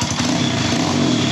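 Kawasaki KLX170RF dirt bike fitted with a D3 BBR exhaust, its engine running loud and close in a steady, raspy drone with no talking.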